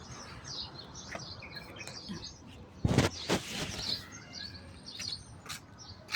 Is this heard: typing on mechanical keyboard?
no